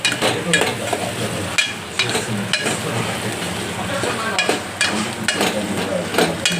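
Turmeric cooking in hot oil makes a steady, close sizzle and crackle, with occasional soft scrapes and taps of stirring throughout.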